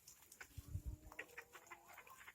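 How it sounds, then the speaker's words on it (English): Cornish chickens cluck in a chicken yard, a cluster of soft, close clucks and low throaty notes over faint farm background. "Those the Cornish ones that were saved out of the chicken house."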